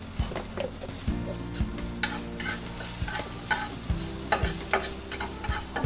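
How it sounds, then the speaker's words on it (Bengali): Greens stir-frying with jackfruit seeds, salt and turmeric, a constant close sizzle broken by repeated scraping and knocking of a spatula in the pan, with no voices. "ভালো করে নেড়ে চেড়ে ভেজে নেব"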